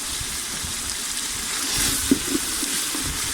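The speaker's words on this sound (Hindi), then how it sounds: "इसे अब हम भूनेंगे।" Chicken pieces fry in a pot with a steady, close hiss and sizzle for yakhni pulao, with a few faint stirring knocks partway through.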